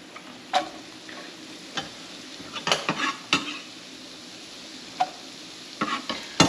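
Onions sizzling in a little oil in a pan, a soft steady fry punctuated by sharp clanks and scrapes of a utensil against the pan.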